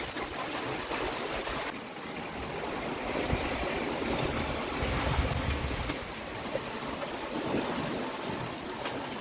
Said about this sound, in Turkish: Hem rüzgar var hem dalga.